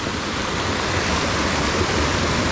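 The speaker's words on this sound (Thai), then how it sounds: "น้ำตกเนาะ" A natural waterfall in southern Laos, swollen with rainy-season water, roars in a steady, loud, unbroken rush close by, with no voices over it.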